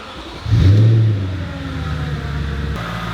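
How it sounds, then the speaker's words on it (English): A car fitted with a velocity stack intake fires up, with a loud surge of engine roar right after the start that settles into a steady, rumbling idle. "let's go ahead and start the car"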